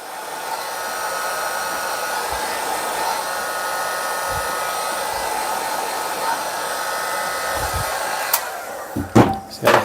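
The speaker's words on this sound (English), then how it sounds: "See how the heat gun there gets rid of any of those ripples." A heat gun blows a steady, loud hot-air roar as it softens bicycle plastic, running continuously for almost the whole stretch before a few knocks and handling sounds near the end.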